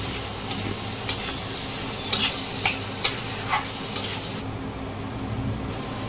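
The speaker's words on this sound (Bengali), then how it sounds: "মশলাটার সঙ্গে দইটা মাংসের সব একসাথে মিশিয়ে নিচ্ছি।" Chicken pieces being stirred with masala paste and yogurt in a pan, a faint sizzle underneath with a handful of soft, irregular scraping clicks of a spoon against the pan, no talking.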